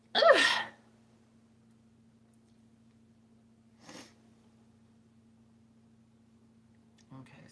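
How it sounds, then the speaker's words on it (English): A single sharp sneeze bursts out close and loud at the start, followed by a faint sniff a few seconds later and a soft noise at the end over a quiet electrical hum. "I have to sneeze."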